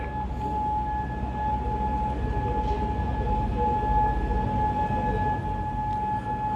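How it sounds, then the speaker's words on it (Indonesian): An air raid warning siren wails across Kuwait, a steady sustained tone holding throughout over a rumbling background, with no talk. "Raungan sirene yang menggema di Kuwait ini, saudara, jadi tanda peringatan bahaya serangan udara atau ancaman militer."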